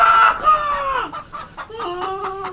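A rooster crows twice in quick succession, each call a drawn-out, wavering cry, loud and close with no talk over it.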